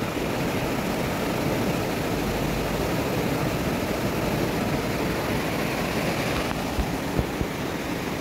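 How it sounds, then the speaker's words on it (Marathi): Foaming, frothy water rushing along a stream near Malshej Ghat, a steady loud broadband roar holding constant throughout without pauses or voices. "पाणी वाहत आहे. एकदम फेसाळलेलं पाणी आहे."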